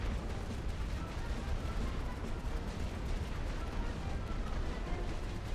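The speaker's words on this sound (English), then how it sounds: "Suppression barrage ordered." A distant artillery suppression barrage in the World War I strategy game The Great War: Western Front rumbles as a steady dense wash of low booms and crackle, with no voices over it.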